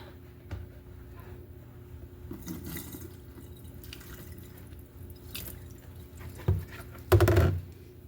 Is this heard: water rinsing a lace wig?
yes